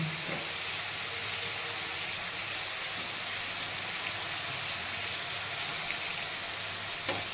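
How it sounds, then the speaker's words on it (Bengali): Tomatoes frying in a little oil in a pan for aloo dum, giving a steady, even sizzle and hiss that runs throughout with no voices. "সামান্য পরিমাণে একটু তেল দিলাম, আর টমেটোগুলো এবারে দিয়ে দিচ্ছি"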